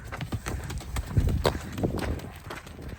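Horse hooves pound around a round pen during training in an open yard, a steady run of loud, close clip-clop beats that swell in the middle and continue throughout.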